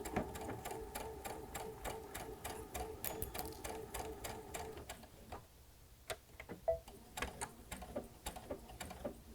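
A sewing machine stitches along a fold line for a faux border, a rapid even ticking run of needle strokes that breaks into short separate bursts toward the end, close and fairly quiet.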